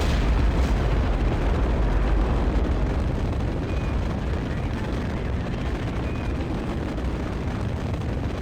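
Rocket thrusters firing at full throttle on a launch in Kerbal Space Program, bound for Minmus: a loud, steady, dense roar with rumbling low end that holds unbroken throughout, no talk over it.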